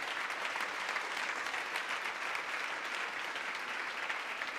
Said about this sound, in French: j'ai envie que vous l'applaudissiez aussi